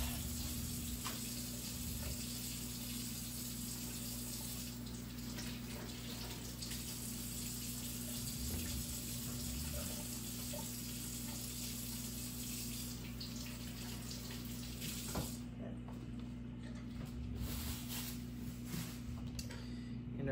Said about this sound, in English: Wash the shrooms. Wash the peppers.